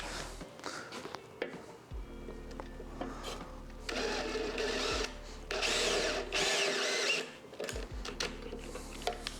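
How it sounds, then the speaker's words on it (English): A power drill bores into an aluminium timing chain cover, whirring in several bursts of rising and falling pitch, close and fairly loud, with short pauses between runs. "aluminium is fun for that. So easy to drill."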